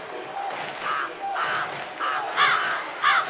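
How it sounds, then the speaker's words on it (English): Crows caw repeatedly over open fields, a series of five or so harsh, evenly spaced calls at moderate distance, growing slightly louder toward the end. "the damn crows are invading the fields"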